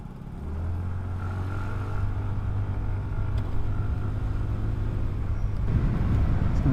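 A Suzuki Skydrive Sport FI fuel-injected scooter engine revs up under throttle with a steady, droning hum that swells gradually over road noise, its tone rising slightly as it accelerates.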